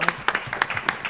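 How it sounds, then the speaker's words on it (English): Scattered, distinct claps from an audience at a panel on mental health strategies for Black Americans, a brief sparse patter of individual hand claps rather than a full ovation. "Can we give him a round of applause?"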